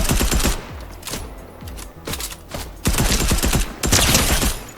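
Rapid bursts of automatic gunfire in a shooter video game, loud and close, coming in several volleys with short gaps between them and no talking.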